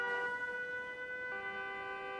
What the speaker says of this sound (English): you can hear the siren starts going off